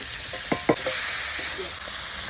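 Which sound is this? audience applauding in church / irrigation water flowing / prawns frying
prawns frying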